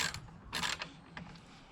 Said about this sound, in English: As I'm unscrewing these bolts,